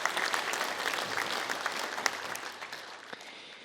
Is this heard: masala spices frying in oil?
no